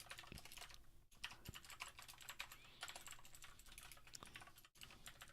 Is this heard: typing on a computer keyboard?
yes